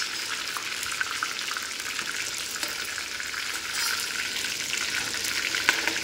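Pieces of chicken of mixed sizes fry in hot oil with a continuous close hiss and fine crackle that holds steady for several seconds and swells slightly near the end, with no voices.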